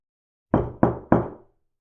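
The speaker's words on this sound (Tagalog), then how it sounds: "Biglang may kumatok sa bahay ni Aling Ima." Three sharp knocks on a house door come in a quick, even sequence, close and loud against silence.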